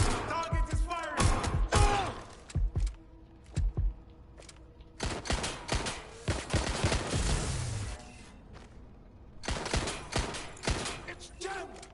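Gunfire in the Watch Dogs Legion video game comes as loud, rapid bursts of shots and fusillades in repeated clusters, with a voice talking between the volleys.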